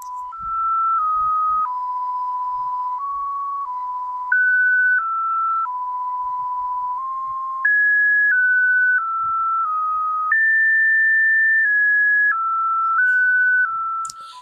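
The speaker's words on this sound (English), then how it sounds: "what you're hearing right now is actually using voltage control oscillator and a vector" The Happy Birthday tune synthesized in GNU Radio with a voltage-controlled oscillator and a vector source, played as pure steady electronic tones stepping note by note through the melody, clean and alone with no voices.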